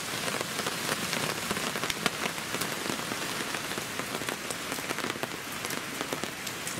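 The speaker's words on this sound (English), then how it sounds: "And you can hear, it's still raining." Steady rain patters on a surface close by at a campsite, a dense continuous hiss of drops with no voices.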